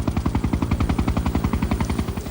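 A police helicopter flies over open moorland, its rotor chopping in a loud, steady rapid pulse that stays close and constant throughout, with no voices.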